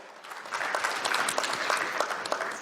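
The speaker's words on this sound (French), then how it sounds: "On l'applaudit également." Audience at a FANAF 2019 insurance finance panel applauding a speaker being introduced, a short burst of many hands clapping that swells quickly and holds steady.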